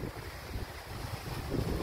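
Strong wind buffets the microphone on an open moor at a wild camp in constant rain, a continuous low roaring rumble with no other sounds.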